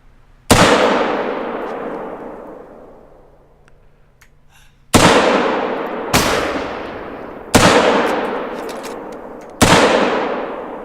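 Rifle shots in a hunting video game set in a Siberian taiga reserve: five loud, sharp cracks, each trailing into a long echoing decay, spaced a few seconds apart with no talking.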